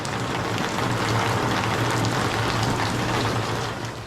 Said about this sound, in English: since we cannot go out because it's raining